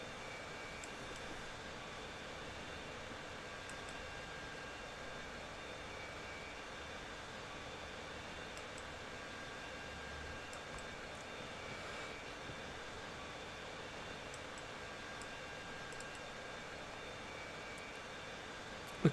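Jet aircraft fly aerobatic manoeuvres in the Roblox video game at a virtual aerobatics festival, a steady faint engine drone and rush that holds evenly throughout without breaks.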